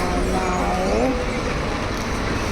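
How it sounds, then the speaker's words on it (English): Bus engines rumble by at a Kuala Lumpur bus terminal, a steady broad roadway drone with a brief rising engine whine early on, heard close and loud with faint voices in the background. "As we can see, like the buses are going."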